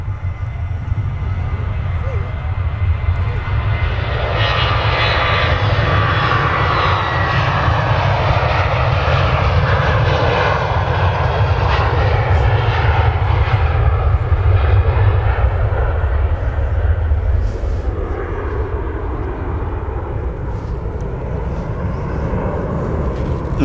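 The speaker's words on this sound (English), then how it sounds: "Ryanair now rolling." Ryanair jet rolling down the runway at Manchester Airport, a loud sustained engine roar that swells and then slowly fades, heard from a distance with a voice talking over it.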